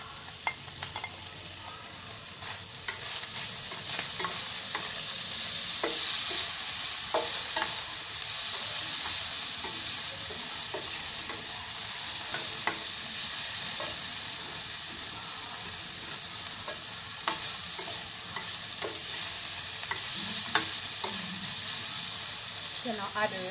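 Chopped tomato and pepper sizzling in hot oil in a pan with fish, for a noodle dish, a steady frying hiss with scattered scraping stirs and spatula knocks throughout.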